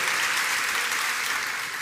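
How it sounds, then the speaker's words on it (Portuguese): Church congregation at a worship service applauding, a continuous dense wash of many hands clapping, steady and moderately loud with no distinct individual claps. "Dá uma salva de palmas ao Senhor"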